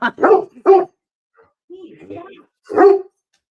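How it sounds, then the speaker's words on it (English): A dog gives a few short, close barks and yips in quick bursts, with gaps between them and voices mixed in. "Sorry, the dog."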